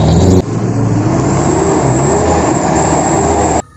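Tanker truck engine roaring loud and constant, a dense steady rumble that runs for several seconds and stops sharply.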